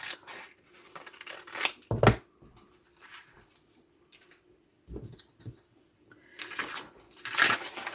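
Scissors snipping through card in a few separate crisp cuts with rustling handling in between, close and fairly loud, and no one speaking.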